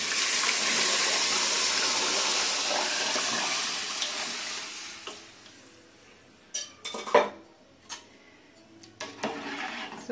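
Tamarind juice pours into a pot of cooking dal for a Telugu pappu charu, a steady rushing splash for about five seconds, followed by scattered clinks of a utensil against the pot.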